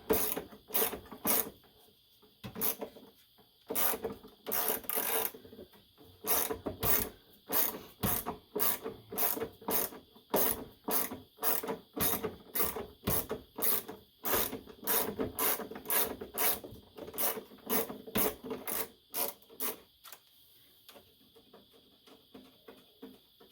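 A ratchet wrench clicks away at the battery hold-down nuts of a 2017 Ford Escape, in quick close bursts of sharp ratcheting strokes that stop and start repeatedly, with no talk over them.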